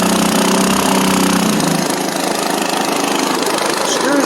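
A Mud-skipper longtail boat motor idles close by, a loud, rough, pulsing engine chug with a knocking rhythm that holds steady throughout.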